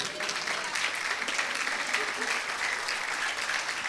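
Church congregation applauding together during a Spanish-language sermon, a dense steady wash of clapping at moderate level that holds throughout, with some voices mixed in.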